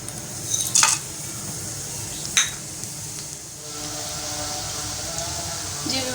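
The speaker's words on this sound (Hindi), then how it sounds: "इसके अंदर मैं ऑयल गरम करके गरम मसाले ऐड करूँगी।" Whole garam masala spices sizzling in hot oil in a pot, a steady hiss with a few brief clinks and stirring knocks early on.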